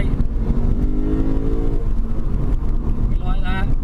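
A 2017 Lexus RC F with a revving V8 pulls hard out of a corner, its engine note climbing steadily, loud and close, with wind and road roar throughout and a voice talking over part of it.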